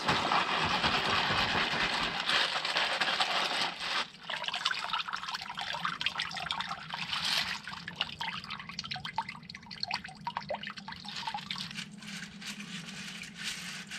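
A mesh bag full of beach-collected seashells is swished and rinsed in water, giving a steady wet trickling and dripping with faint clinks, close and continuous throughout with no talking.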